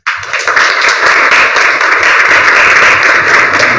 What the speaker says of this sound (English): I want everyone in the room to give a big applause to all the panelists today